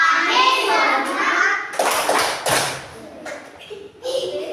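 Children clap their hands together in a classroom group, a run of loud close claps bursting out between children's voices and chatter.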